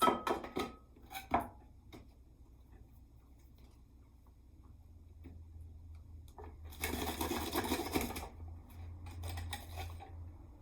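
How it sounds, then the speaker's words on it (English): A green bell pepper is diced with a manual vegetable chopper in a home kitchen, giving a few sharp plastic clacks and thumps, then a quiet pause, then a longer rattling burst of chopping, all close and moderately faint. "So I'm going to cut up my pepper just like this."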